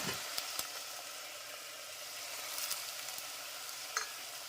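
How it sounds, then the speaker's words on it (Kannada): Mixed vegetables and fresh green peas frying in hot oil for a vegetable kurma, a steady low sizzle with a few brief stirring clinks, heard up close with no talking. "ಈಗ ಇದನ್ನು ಎಣ್ಣೆಯಲ್ಲಿ ಒಂದೆರಡರಿಂದ ಮೂರು ನಿಮಿಷ ಎಣ್ಣೆಯಲ್ಲಿ ಹುರ್ಕೋಬೇಕು ಇದನ್ನು"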